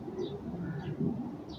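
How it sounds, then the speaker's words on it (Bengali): A long-distance racing pigeon, Harry x BBN cross, giving soft low throaty coos close by, a few repeated rolling calls over a brief moment. "এই যে একটা লং এর কবুতর"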